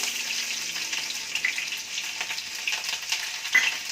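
Curry leaves and onion pieces crackle and hiss in hot oil after mustard seeds have popped, a steady close sizzle with scattered sharper spits and pops throughout, no voices.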